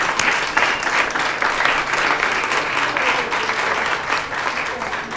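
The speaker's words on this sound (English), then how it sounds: "Let's have another round of applause." An audience at a Friday jazz concert applauds steadily and fairly close, a dense wash of clapping that holds at an even level throughout.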